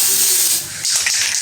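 Party spray can hissing in steady bursts at a birthday cake cutting, loud and close, with a brief pause midway before the spray resumes.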